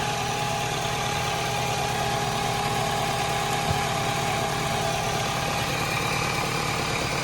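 A car engine idles steadily throughout during a vacuum test, a continuous mid-low hum with light mechanical vibration, close and unbroken, with no talk.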